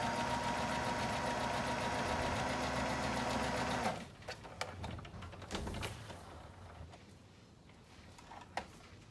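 Sewing machine stitching a seam on a fabric wheat bag, a fast steady mechanical whir for several seconds, then stopping, followed by faint handling clicks and rustles, close and alone.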